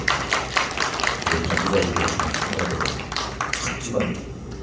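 A church congregation claps for its choir, a dense burst of hand claps that tapers off, close and fairly loud.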